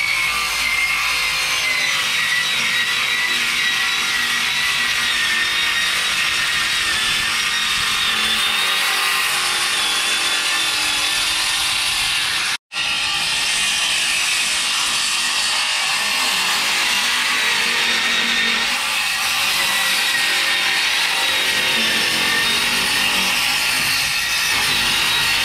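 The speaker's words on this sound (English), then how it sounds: "we're going to rip 6 4-inch strips out of it" A saw fitted with a Kreg jig rips long 4-inch plywood strips, a loud, continuous abrasive whine and rasp that runs nearly unbroken apart from one split-second cut-out midway.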